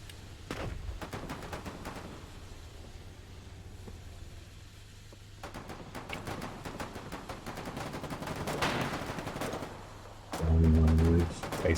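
Gunfire in the war video game Foxhole on a colonial frontline, with scattered sharp shot bursts in clusters, a few in the opening seconds and a denser run later, ending in a loud low rumbling blast.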